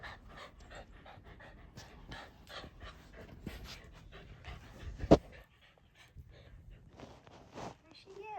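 A dog pants steadily with occasional soft whimpers close by in a room, under ongoing talk and light household movement, with one sharp knock midway.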